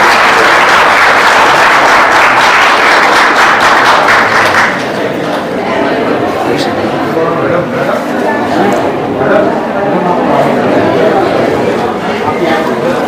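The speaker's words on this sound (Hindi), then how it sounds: "बच्चों की जोरदार तालियां।" Students at a college annual function burst into loud, dense applause for about five seconds, which gives way to crowd chatter, murmuring and some thumps in the hall.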